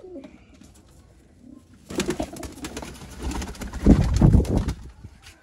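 Red-eyed breeder pigeon pairs cooing in a loft, with a quiet start and then low, throaty coos and rustling that rise and build near the end, close by, with faint voices in the background.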